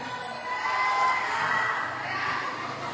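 A crowd at a volleyball finals game between OMSC and BA-MA roars and cheers continuously, a dense wash of shouting voices with no pause.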